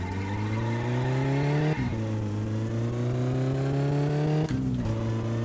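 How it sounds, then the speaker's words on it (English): A game car's engine in My Summer Car climbs steadily in revs, dropping briefly at two gear changes before rising again, loud and continuous with no talk. "there's a bit more of an acceleration boost towards the end of the RPM gauge"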